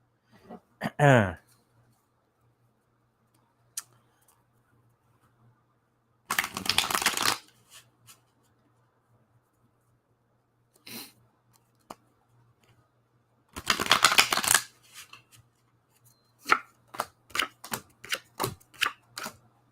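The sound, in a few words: shuffling tarot cards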